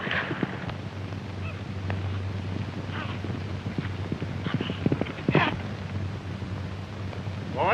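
Horse hooves gallop in a western film, a fast rhythmic clip-clop of hoofbeats over windy outdoor noise with a low steady rumble, moderately distant and unbroken by talk.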